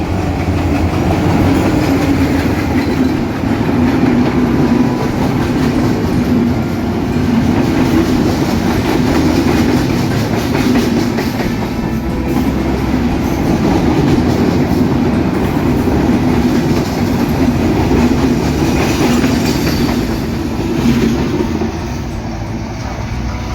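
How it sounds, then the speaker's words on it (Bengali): An empty special train of unloaded rakes runs through Azimnagar railway station on line 2 without stopping, a loud close rumble with steady wheel clatter that stays heavy for the whole pass. "পার্বতীপুরগামী একটি স্পেশাল ট্রেন আজিমনগর রেলওয়ে স্টেশনের 2 নম্বর লাইন দিয়ে এই মুহূর্তে থ্রু পাস করে চলে যাচ্ছে"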